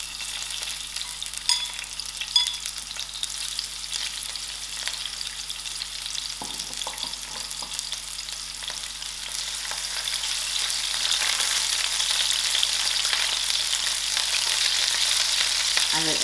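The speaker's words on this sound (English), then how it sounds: "I will allow these onions to fry just a little." Onions frying in oil in a pan on a stove over moderate heat make a steady, soft sizzle with light crackles, growing slightly louder and brighter toward the end, with occasional stirring clinks and no talking.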